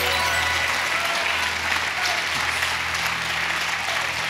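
A studio audience at a German game show applauds loudly and steadily, a continuous wash of clapping that holds for several seconds.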